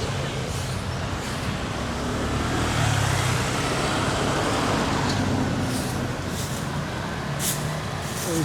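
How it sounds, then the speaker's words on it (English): Road traffic on Alona Beach Road in Panglao, Bohol, rumbles as a continuous wash of passing cars and heavier vehicles, with brief hissing bursts like air brakes near the end. "As you can see, traffic."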